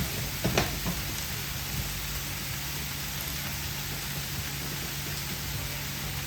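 Turmeric powder and spices frying in a pan of oil over a low flame for an omelette, a steady soft sizzle throughout with a couple of brief clinks near the start.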